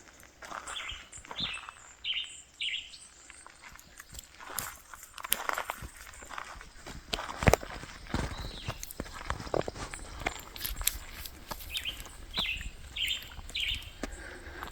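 Outdoors, small birds chirp in short bursts of quick tweets, both near the start and again near the end, amid crunching footsteps and faint rustling.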